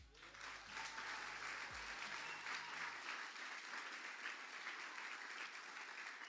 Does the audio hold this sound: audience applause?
yes